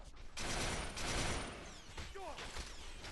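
Rapid gunfire bursts from Resistance 3 weapons, a dense rattling volley through the first half, then fading into lighter mechanical clicks and whistling projectile sounds at moderate level.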